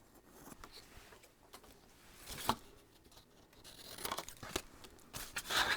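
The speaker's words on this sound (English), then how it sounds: "we'll take the scissors, we'll do our angle cut where they intersect at the corners." Scissors snipping angled corners into paper for a cat-themed craft album, giving a few quiet crisp cuts and crinkles spaced irregularly over soft background hiss, with no voices.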